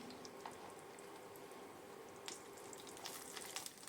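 Lentil dumplings (bori) fry in mustard oil for a spinach dish, giving a steady, fairly quiet crackling sizzle with scattered sharper pops toward the end.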